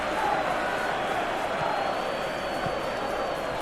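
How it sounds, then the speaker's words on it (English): A stadium crowd in a football video game simulation of Manchester City vs Liverpool roars in a steady, dense wash of cheering and noise, with a commentator speaking over it. "it certainly got the crowd going"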